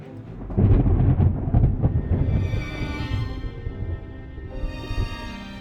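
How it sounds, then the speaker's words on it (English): A deep, loud thunderclap from the video game Strange Horticulture booms and rolls for several seconds, its low rumble slowly fading with a tonal musical layer rising over it. "There is an almighty thunderclap and a blinding flash of light"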